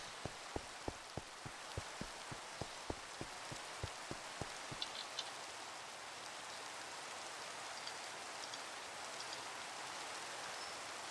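Steady rain falls in a video game, a soft even hiss that runs throughout, joined early by a series of regular sharp ticks that stop partway.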